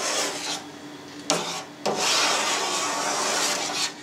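A knife slices through fresh cheese curd into strips about 2 cm wide while burrata is being made, giving a close, steady wet rasping and rubbing with two brief sharper strokes partway through.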